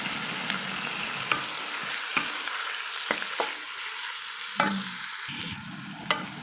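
Chicken wings and pork sizzling and frying in a pan for adobo, a steady close hiss broken by sharp clicks and scrapes of stirring, with no talking.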